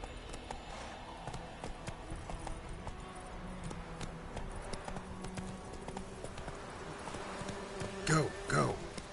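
Horse hooves clip-clopping in The Witcher 3 video game, a soft, rhythmic trot under a faint insect-like buzz of ambience, with a couple of louder thumps near the end.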